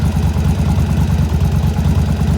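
A motorcycle engine with about 45,000 miles on it runs steadily after a starter repair, a loud, close, even low rumble with rapid pulsing and no pauses.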